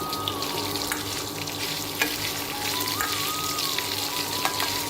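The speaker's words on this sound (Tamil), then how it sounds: "ஒரு 2 நிமிஷம் தேங்காய் பட்டை மிளகாய் புளி உப்பு எல்லாமே வதங்கிடுச்சு." Coconut, red chili, tamarind and salt sauté in oil with a loud, continuous close-up sizzle and scattered spatter pops, alongside a faint background hum and no speech.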